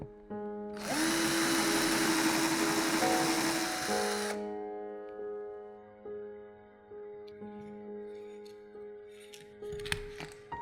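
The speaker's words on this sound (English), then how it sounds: "Mark the center and drill a hole in the bamboo base." A power drill boring a hole in a bamboo base whines loudly for about three seconds, spinning up at once and then stopping, followed by quiet scattered handling noises.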